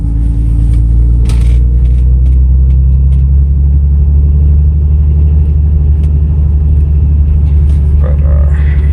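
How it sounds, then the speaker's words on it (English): A car engine idles with a deep, steady rumble throughout, close and loud, with faint clicks and rattles over the low drone. "I try not to wake up my neighbors with my car"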